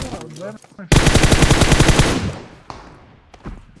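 Automatic gunfire from PUBG Mobile rattles out in a loud rapid burst lasting about a second, followed by fainter scattered shots and brief talk around it.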